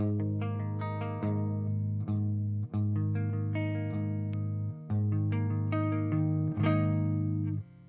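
A clean electric guitar plays arpeggiated chords, notes ringing into one another with a slight chorus shimmer, steady and even.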